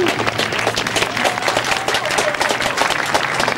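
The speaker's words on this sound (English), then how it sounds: "you can hear from the applause that they were pretty impressed" Crowd applause at a motor racing circuit, a dense, steady wash of many hands clapping that fills the whole stretch at a fairly loud, even level, with no one speaking over it.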